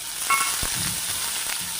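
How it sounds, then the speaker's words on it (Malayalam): A small chopped onion fries with popped mustard seeds in a pan for upma, a steady close sizzle with a brief stir or clink near the start. "ചെറിയ സവോള നമ്മൾ അതിനകത്തേക്ക് ഇട്ട് കൊടുത്തു ഒന്ന് നന്നായിട്ട് ഫ്രൈ ആകണം"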